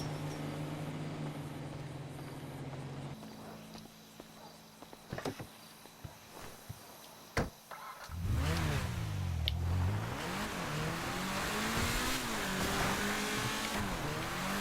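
A video game car drives with a steady engine drone and scattered clicks, then revs up and accelerates with a wavering, rising and falling engine roar, fairly quiet overall.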